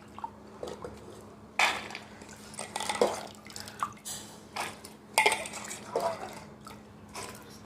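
Soaked lentils being tipped into a pressure cooker, with a few scattered clinks, wet drips and splashes of grain and water against metal at close range, no voices.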